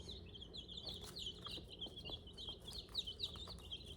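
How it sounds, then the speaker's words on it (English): Busy chicken sounds with chirps and clucks from hens and chicks layered over a steady background on a homestead farm, fairly soft and continuous, with no voices. "I want to show you all the chickens."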